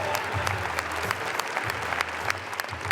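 A standing audience at the Cannes film festival applauds a film with steady, dense clapping from a packed hall, loud and close, with faint voices mixed in.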